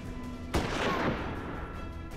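A single shotgun blast fires in the Western-themed video game Hard West. It is a sharp burst with a short rumbling tail over a steady game ambience, and no other sounds are heard.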